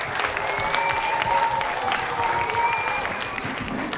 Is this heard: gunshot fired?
no